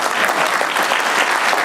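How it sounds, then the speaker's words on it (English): Dense, steady applause from a crowd at a state senator's victory celebration, loud and continuous clapping throughout with no break. "Please give her a round of applause."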